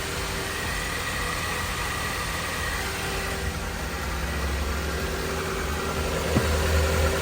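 A 2010-2018 Jeep Compass engine idles with a steady, even hum and light vibration, close and continuous, with a faint rise near the end.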